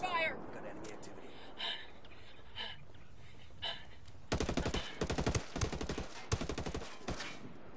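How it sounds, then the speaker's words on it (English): Rapid gunfire from a Ghost Recon squad firefight in bursts of sharp close shots, with quieter scattered shots before them, as players talk over the shooting. "Under heavy fire."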